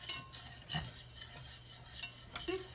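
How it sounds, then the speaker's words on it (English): Quick stirring of food in a pot on a home stove, a utensil scraping and clinking around the pot with a few louder knocks, close and fairly quiet with no talk. "Stir it really fast all around."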